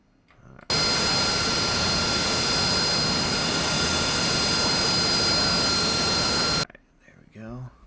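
An AV-8B Harrier jet engine starts up in the DCS flight simulator, a loud, steady roar that cuts in abruptly, holds for about six seconds, then drops away. A voice speaks briefly afterward.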